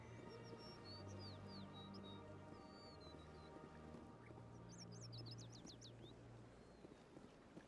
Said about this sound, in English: It's like I hear the birds